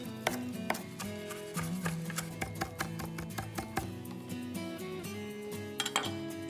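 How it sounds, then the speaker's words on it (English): A knife rapidly minces fresh parsley and dill on a cutting board, the close, crisp taps coming in quick irregular bursts with short pauses between them. "I'll just mince them up really finely."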